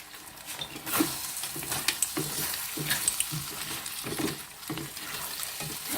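Seafood paella fries in a pan with a continuous close sizzle and crackle, plus occasional stirring taps and scrapes, without any talking.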